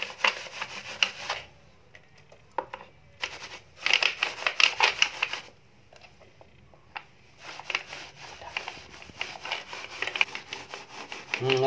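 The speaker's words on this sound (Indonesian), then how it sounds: "Lalu kita gosok perlahan. Tidak usah pakai tenaga, gosok, gosok," An old coin is gently scrubbed with Sunlight soap mixed with water, making soft, close rubbing strokes in several bursts separated by short quiet pauses.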